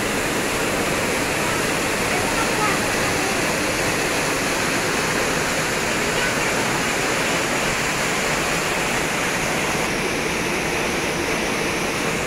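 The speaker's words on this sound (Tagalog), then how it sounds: "Ang dami-dami pong waterfalls dito" Waterfalls along Ma Dai Stream in Sai Kung, Hong Kong, roaring in a loud, steady, unbroken rush of falling water from start to finish, with no break or voices standing out.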